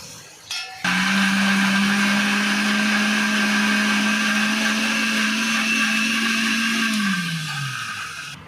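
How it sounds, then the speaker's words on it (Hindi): An electric blender grinds cooked keema mixture, whirring loudly and steadily for several seconds after a brief start, then winding down as the motor slows. "अभी इसको आप ठंडा करके अच्छे से पीस लेना।"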